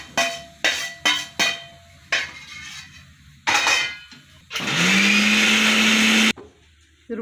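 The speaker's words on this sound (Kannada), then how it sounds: "ಇದು ಮಸಾಲೆ ರುಬ್ಬೋಣ. ಇದಕ್ಕೆ ಹುಳ್ಳಿಕಾಳು ಹಾಕ್ಬೇಕು." A kitchen mixer grinder grinds masala with horse gram: a few short pulsed bursts first, then one long steady roaring run of about two seconds that cuts off abruptly, loud and close, with no talking.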